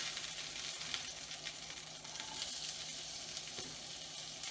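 Food fries in olive oil in a pan, a quiet, even sizzle filling the whole moment with faint tong movements and occasional small knocks, no voices.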